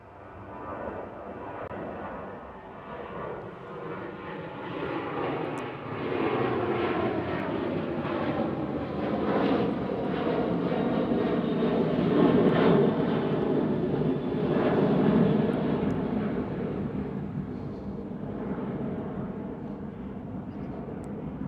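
A Ryanair airliner takes off at Manchester Airport, its engine roar building from moderate to loud and sustained, with a rising then falling tone as it passes, heard alone without talk.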